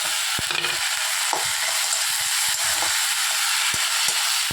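Onion and tomato fry in a pan with ginger-garlic paste stirred in, a steady close sizzle broken by sharp scraping taps of a spatula against the pan.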